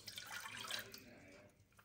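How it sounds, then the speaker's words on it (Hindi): Water pours into a cooking pot for ramen, a close, hissing splash that is strongest at first and fades within two seconds. "सो पहले मैं इसमें पॉट में पानी डालूँगी"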